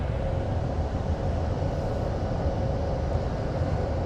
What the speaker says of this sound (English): So the train journey from Exeter only took about 5 minutes.